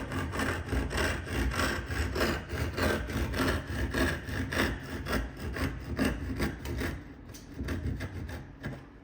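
Hand saw cutting tenons in wood held in a vise, steady back-and-forth rasping strokes close up and fairly loud, ending in a brief pause near the finish.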